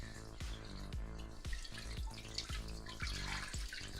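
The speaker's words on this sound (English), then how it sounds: "I'm gonna rinse this out really good." Tap water runs and splashes into a sink while a synthetic wig is rinsed under it, a steady close wash broken by repeated soft, rhythmic thumps about every half second.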